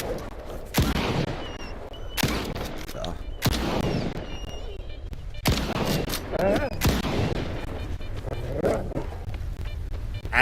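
Video game gunfire cracks out in separate loud shots and short clusters every second or two, some echoing like heavy artillery, while a player mutters between them.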